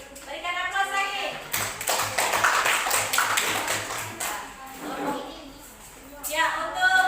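Classroom applause for a student presentation group, a short patter of clapping from a small number of hands, moderately close, mixed with the teacher talking and children's voices.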